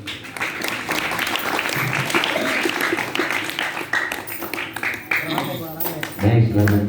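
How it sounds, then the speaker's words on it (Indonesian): Applause from a school audience at a student council candidates' debate, a steady round of clapping that runs throughout with voices mixed in and a speaker coming in near the end. "Ya, kayak tepuk tangannya."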